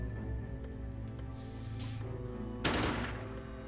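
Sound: gunfire from soldier shooting in video game Xenonauts

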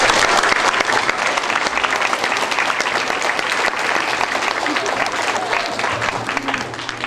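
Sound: applause for the student winner

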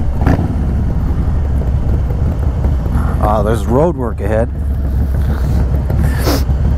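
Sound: Harley-Davidson Stage 2 motorcycle riding at speed

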